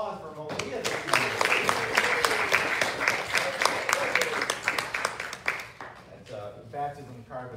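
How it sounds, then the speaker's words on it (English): Audience applause in a church service, a steady round of loud, dense clapping lasting several seconds that thins out toward the end as voices come in. "What a round of applause for Malia this evening."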